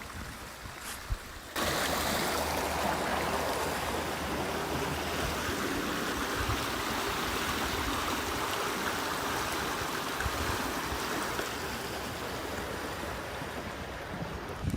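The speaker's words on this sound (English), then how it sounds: "river that holds the overflow of the water from the artesian well" Overflow water from an artesian well running into a clear river, a continuous close rush and babble of flowing water, steady and loud with no voices.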